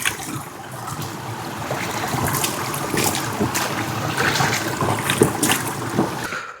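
Water from a forest spring supplying a village flows in a continuous rushing wash, heard close with some wind noise and a few small splashes.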